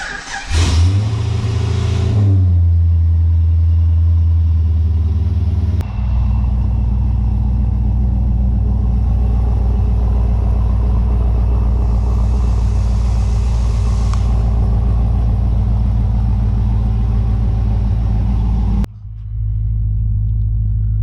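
A Holden Monaro engine cranks and fires up loud and close, then settles into a deep, steady rumbling idle that runs for a long stretch before the sound cuts off briefly near the end, with no talking.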